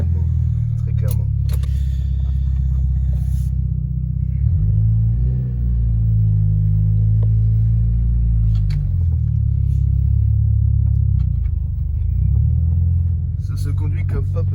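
A Mitsubishi Lancer Evo imported from Japan idles close by with a deep, steady rumbling purr, swelling briefly now and then, while people talk over it.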